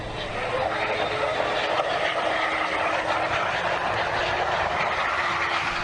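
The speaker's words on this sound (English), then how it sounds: "Flight 16 touched down at more than 140 miles an hour." An airliner touching down on a runway at over 140 miles an hour, heard as a steady loud roar of engine and rushing air from inside the cabin, continuous without any distinct impact.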